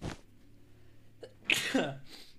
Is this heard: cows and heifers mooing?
no